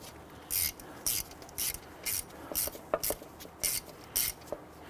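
A ratchet wrench snugs down a bolt on a front wheel hub assembly of a 2011-2017 Nissan Quest, giving about nine short, evenly spaced bursts of clicking, close and clear over a quiet background.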